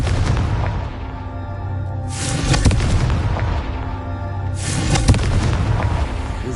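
Confringo explosive spell blasts cast in Hogwarts Legacy: two heavy booming bursts a few seconds apart, each with a sharp crackling onset, rising over a constant rumbling game backdrop.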